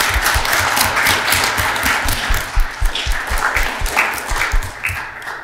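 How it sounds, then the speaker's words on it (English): A round of applause at a town council meeting, a crowd clapping steadily for several seconds, loud and close, thinning into scattered claps near the end. "Give them a round of applause."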